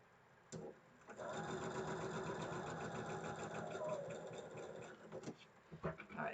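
A sewing machine runs in one sustained burst while stitching quilt blocks, a steady mechanical whir with a rapid needle rhythm, bracketed by short starts, stops and handling clicks.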